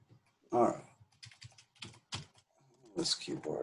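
Someone types on a computer keyboard during a math lecture, producing close, quiet clusters of key clicks in irregular bursts separated by short pauses.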